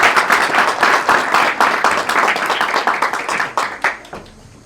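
An audience claps steadily to welcome a speaker at a youth peacebuilding and social cohesion gathering. The dense applause is sustained, then thins into scattered claps and fades out.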